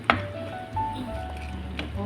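Ground beef in tomato sauce for lasagna simmers in a pan, giving a soft continuous sizzle and bubbling with a few sharp clinks and stirring sounds.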